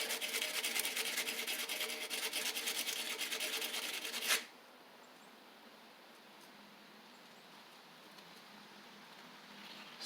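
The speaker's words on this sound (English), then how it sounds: "I'm just going to take a little sandpaper" Sandpaper rubs quickly back and forth over the ignition points of a 1985 Wheel Horse 312-8 garden tractor, a steady close rasp that lasts about four seconds and then gives way to faint room noise.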